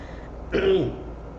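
A single throat clear, short and close, rising out of a quiet room and fading after about a quarter second.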